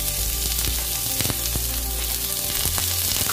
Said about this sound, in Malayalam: ഇനി ഇത് നമുക്ക് ഒന്നിങ്ങനെ വഴറ്റിയെടുക്കാം ഒന്ന് റോസ്റ്റ് ചെയ്തെടുക്കാം